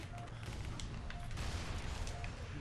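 Gunfire in the video game Halo ODST: a dense, continuous rattle of shots with low booms, steady and fairly loud throughout, with faint voices mixed in.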